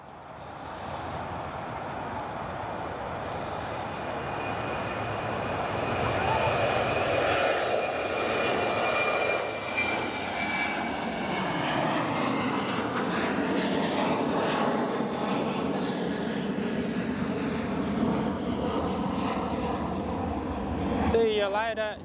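A Jetstar Airbus A321 jet departs Perth Airport for Melbourne in the evening, its loud engine roar sustained and sweeping in pitch as it passes, filling the whole stretch.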